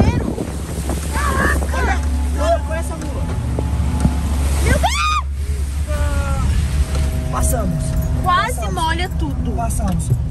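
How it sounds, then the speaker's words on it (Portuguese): Rushing floodwater surges through a city street during a heavy storm, with storm drains overflowing; a loud, constant roar of water and wind sits under excited voices talking throughout. "Eu nunca vi uma tempestade tão forte."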